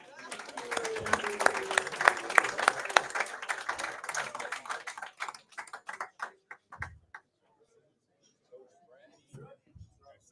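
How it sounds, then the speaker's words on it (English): Applause at a live baseball and NFL draft day event, a burst of clapping that thins into scattered individual claps before falling quiet, with a voice heard over the start. "Everybody, round of applause."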